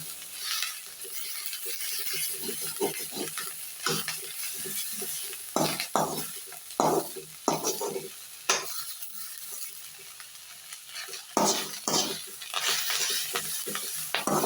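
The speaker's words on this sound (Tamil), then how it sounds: "நல்லா வதங்கி இந்த முருங்கைக்கீரை ஒரு நல்ல வாசனை வரும் அந்த வாசனை வர வரைக்கும் வதக்கணும்" Drumstick leaves sauté in a pan with a steady sizzle and frequent scraping, stirring strokes, close and fairly loud throughout, with no voices.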